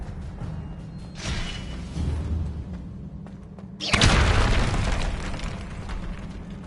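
Confringo fire-blast spell in the wizarding game Hogwarts Legacy: a soft whooshing burst, then a loud booming explosion with a rumbling tail over a low steady hum, with no talk.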